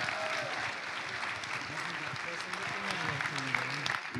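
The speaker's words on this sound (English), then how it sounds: "Let's give it a round of applause for everyone who made this video possible." Audience applause at an opening ceremony, a steady wash of clapping at moderate distance with a few cheers and voices mixed in, continuing evenly throughout.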